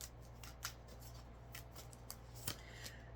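A new, stiff tarot deck riffles and slaps softly in scattered bursts, close and quiet, over a low steady hum.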